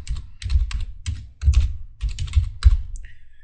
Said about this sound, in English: So we'll go ahead and type that name here.